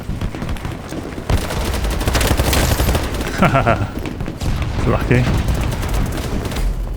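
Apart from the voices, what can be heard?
grenade explosion in the video game BattleBit Remastered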